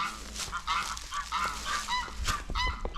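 Goose-like birds squabble near a wetland trail, trading loud repeated honks back and forth in quick bursts, close and without talk.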